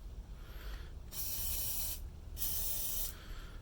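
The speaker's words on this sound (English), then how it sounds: "Little spray." An aerosol spray can fires two short, close, loud hissing bursts, each lasting about a second, with quiet pauses between them. No one speaks.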